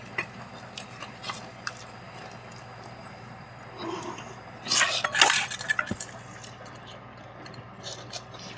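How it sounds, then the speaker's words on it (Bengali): Ingredients for steamed hilsa, including yogurt and a mustard-poppy paste, going into a bowl, with scattered clinks and scrapes of utensils against the dish and a busier burst of clattering midway. "এই বাটিটার মধ্যে এগুলো দিয়ে দিচ্ছি"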